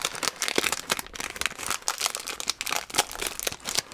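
Plastic packaging being handled while an X-Man Design Shadow M 6x6 puzzle cube is unboxed, with irregular bursts of close crinkling and rustling and no voices.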